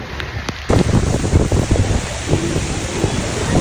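Heavy downpour in Cebu City, a loud steady wash of rain hitting surfaces that surges suddenly and stays dense throughout, with gusty wind buffeting the microphone.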